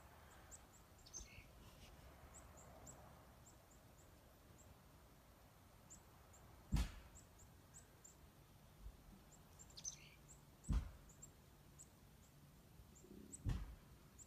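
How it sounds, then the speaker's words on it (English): Small birds chirp in quick, high repeated bursts during a snowstorm, faint and somewhat distant against a quiet background, with a few soft thumps between calls. "I don't know if you can hear the birds."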